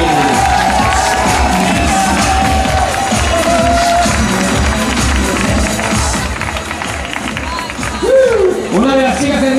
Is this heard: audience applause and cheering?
yes